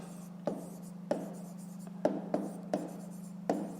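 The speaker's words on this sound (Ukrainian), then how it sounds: "Записуємо." Numbers are written by hand, a pen tapping and scratching on paper in a quiet series of short, close strokes over a steady low hum.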